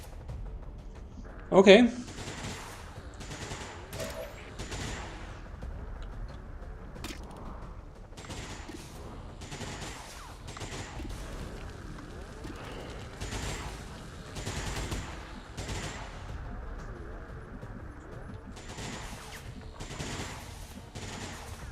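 Sustained gunfire from the XCOM 2 strategy game, scattered shots and bursts running throughout at moderate volume beneath frequent talking, with one sharp loud blast near the start.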